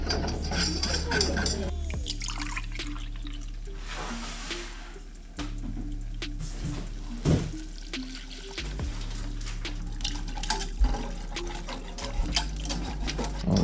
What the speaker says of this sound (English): All right, so I'm gonna add some milk into this.